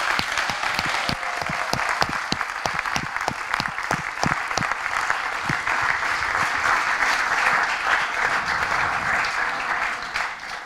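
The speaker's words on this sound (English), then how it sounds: "big round of applause" An audience claps steadily after a student team's final presentation, dense sustained applause filling the whole stretch without talk over it.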